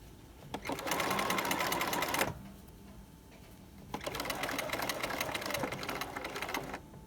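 Home sewing machine stitching a trouser waistband in two close, steady bursts of rapid whirring, separated by a short pause.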